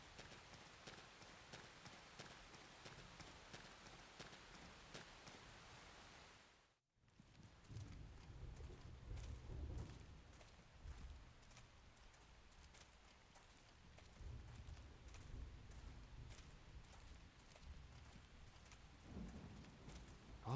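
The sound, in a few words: rain and thunderstorm in the video game Xenoblade Chronicles X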